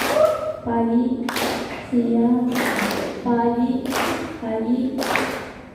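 Rhythmic clapping game in an Indonesian classroom presentation, a group clapping in bursts of about five claps roughly a second apart while voices chant over the claps.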